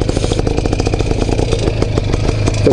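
IZh Planeta motorcycle engine running under way, a loud, steady mid-pitched clattering drone with rapid regular firing pulses throughout, close and continuous, no talk.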